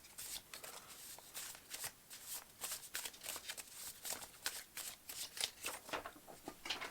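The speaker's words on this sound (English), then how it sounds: "Not the easiest things to shuffle." Tarot cards are shuffled by hand in quick, repeated riffling bursts, each a crisp papery flutter, close and moderately loud with no speech.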